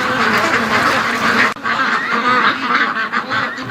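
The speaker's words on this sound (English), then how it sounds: "Doug came out of the pen and caused all these ducks to come out with him." A crowd of free-range ducks, stirred out of their pen by a dog, quacks loudly and continuously nearby, overlapping calls forming a dense, noisy chorus.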